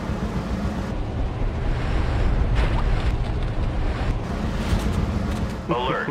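Strong wind roars through a tunnel from an activated wind turbine in the video game TimeShift, a loud, steady rushing gust with a voice speaking over it.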